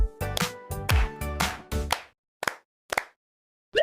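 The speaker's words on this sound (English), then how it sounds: "Now clap your hands." Several sharp hand claps ring out in a quick uneven burst, then three more isolated claps follow after short pauses, loud and close with no talking over them.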